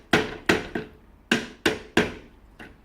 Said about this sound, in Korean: 망치로 제일 축과 가까운 부분 이 부분을 이런 식으로 가볍게 치시면